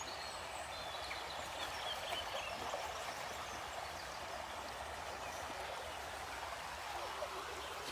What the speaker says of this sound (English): That's so beautiful, that sound of that water.